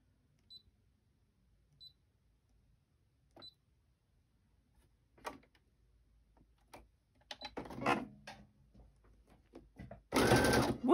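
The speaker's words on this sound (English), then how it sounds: "I think having my sewing machine over here" Sewing machine stitching fast while crafting paper tab embellishments: a few isolated clicks and taps first, then a building whir that ends in a loud, dense burst of rapid stitching.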